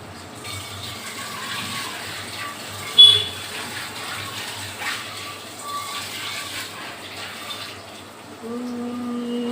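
Peas being washed in water, a continuous running, sloshing wash with a brief splash partway through and a louder steady flow near the end, with faint speech in the background.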